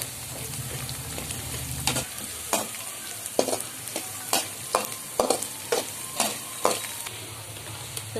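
Rava being stirred and fried in an oily pan for upma, with a spoon scraping in repeated, evenly spaced strokes over a soft steady sizzle, heard up close and alone.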